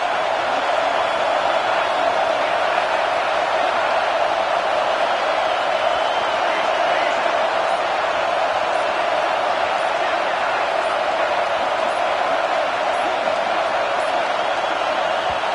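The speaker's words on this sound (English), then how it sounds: "Decibels rising as the crowd gets behind this defense on third down." A stadium crowd roars steadily behind the defense on third down at a Michigan State versus Maryland football game, a loud, unbroken wall of cheering noise that holds constant throughout.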